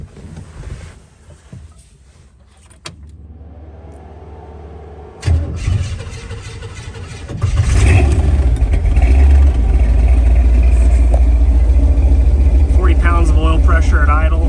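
A 1969 Jeepster Commando with custom side-exit dual exhaust cranks over and fires up, then settles into a loud, deep, steady idle rumble that continues to the end.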